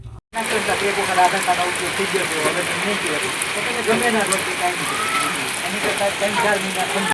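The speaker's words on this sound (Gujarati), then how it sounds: "વરસાદ આવી ગયો છે" Steady rain patters and hisses throughout, a dense continuous wash of drops on surfaces, with faint voices in the background.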